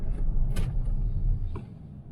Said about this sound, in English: Pretty good braking, pedals firm.